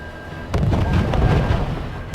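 Battlefield gunfire and shelling from the strategy game R.U.S.E., with a sharp blast opening a dense, sustained rumble of explosions and shots that stays loud throughout, then another sudden crack at the end.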